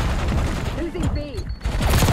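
Rapid gunfire in Black Ops 6 rattles continuously across the clip, with dense bursts from an AS VAL rifle and brief higher tones sliding overhead, loud and close.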